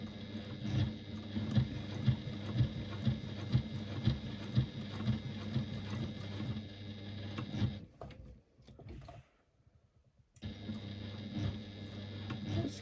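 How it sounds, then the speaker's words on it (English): A sewing machine top stitches fabric at an eighth-inch seam allowance with a lengthened stitch. The rapid mechanical stitching runs steady and close, pauses into near silence for a few seconds, then resumes. "I'm top stitching at an 1/8 of an inch seam allowance, so I'm increasing my stitch length a little."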